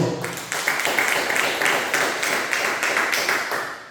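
Congregation applauding during an evangelical church service, a dense steady wash of clapping sustained for several seconds with no talk over it.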